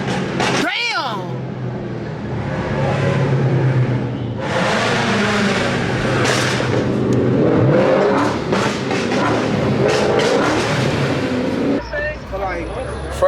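An old car revs its engine at a big outdoor car meet, the engine roaring up and down through loud bursts while people talk and shout nearby.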